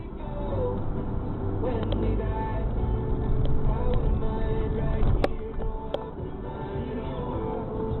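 A car rumbles past on the road, swelling and fading, with muffled voices or music faintly beneath the steady traffic noise.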